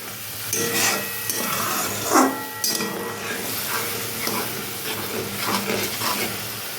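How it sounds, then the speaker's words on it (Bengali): Spice paste for a rui fish curry with radish is sautéed in hot oil, a dense continuous sizzle and hiss with repeated scraping stir strokes against the pan, loud and close. "এইভাবে মশলাটাকে কষিয়ে নিলাম"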